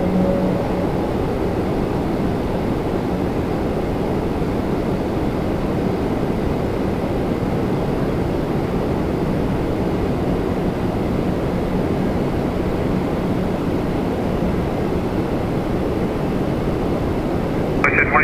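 An Air Canada airliner taking off from runway 24 right at Toronto Pearson produces a steady, broad jet roar that holds loud and constant for the whole span, heard from a distance with wind buffeting the microphone.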